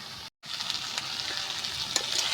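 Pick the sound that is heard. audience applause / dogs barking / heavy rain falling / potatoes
potatoes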